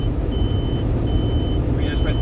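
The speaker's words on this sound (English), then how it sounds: "That's what that beeping is that you're hearing, is my bypass signal." Beeping from a truck's weigh station bypass signal inside the cab, a steady tone running under loud road and engine rumble, with a short burst of higher chirps near the end.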